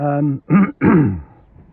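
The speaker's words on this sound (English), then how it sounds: "I could edit out all these annoying coughs" A throaty cough and throat-clearing burst, a few harsh rough bursts close to the mic, with a voiced grunt before them.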